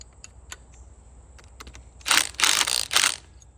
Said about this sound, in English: Just going to put my socket on there